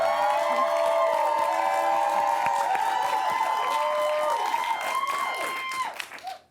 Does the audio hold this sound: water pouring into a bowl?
no